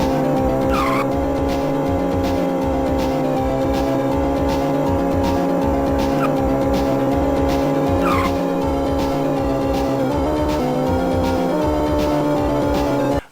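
A polygon-style Sega racing video game, with a continuous loud droning engine and repeated tire squeals and skids running throughout, dense and unbroken, with no voices.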